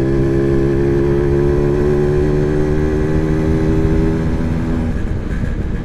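An old Yamaha V80 motorcycle is ridden with its engine droning loud and steady up close, then easing off near the end.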